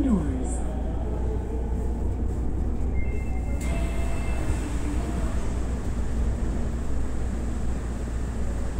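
Hankyu 1300 series local train running on the line toward Kyoto-Kawaramachi, with a steady loud low rumble of wheels and motors throughout, a brief rising whine early on and faint high squeals.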